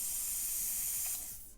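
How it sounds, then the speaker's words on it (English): A steady aerosol spray of adhesive hair spray hisses continuously up close into a container, then tapers off at the end; no voices. "I'm just gonna go ahead and spray it"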